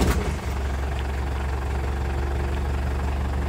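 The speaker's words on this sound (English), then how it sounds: "Let's warm our glow plugs up for a minute and start her up." A 24-volt Land Rover Perentie 6x6 ambulance's diesel engine catches and settles into a steady, loud, low idle, close by, with a brief rougher burst at the very start.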